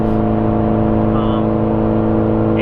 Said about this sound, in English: I can't tell with the transmission noise because my whole car is loud.